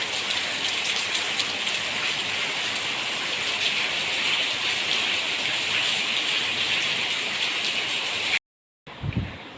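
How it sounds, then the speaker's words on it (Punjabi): Heavy rain pours down in a steady, dense hiss, continuous and close, before cutting off abruptly near the end. "ਮੀਂਹ ਜੱਦਾ ਹੀ ਪੈ ਰਿਹਾ"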